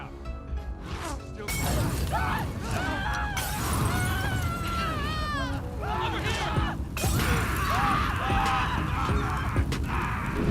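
A thrown Molotov cocktail shatters in The Last of Us, glass breaking into a burst of flame amid loud chaotic game noise, with a voice and honking, goose-like cries over the din.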